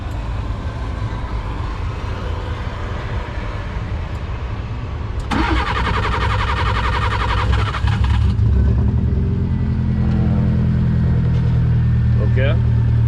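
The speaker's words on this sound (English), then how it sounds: "the car is idling really nice" A car fitted with a Speeduino DIY ECU cranks briefly and catches, then settles into a steady, close idle with a low, even hum.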